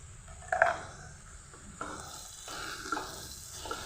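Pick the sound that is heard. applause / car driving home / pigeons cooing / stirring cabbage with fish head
stirring cabbage with fish head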